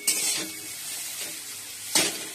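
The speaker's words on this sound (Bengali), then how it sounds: "পেঁয়াজ কলি আলু ভাজা হয়ে গেছে, এবার নামিয়ে দেবো।" Potato and spring onion fry in a pan as a spatula stirs them, two scraping metal strokes over a soft, steady sizzle, close by with no talking.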